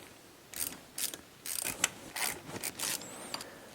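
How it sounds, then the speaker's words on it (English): A water pump is worked loose and pulled from a BMW E34 engine, heard as close, quiet bursts of ratcheting, scraping and clicking metal, several short bouts in a row with brief pauses. "Time for the pump to make its exit."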